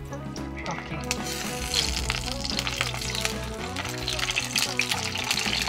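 Wet brinjals slid into hot sesame oil in a pan for a roasted brinjal gravy, crackling and sizzling steadily throughout with busy kitchen clatter underneath.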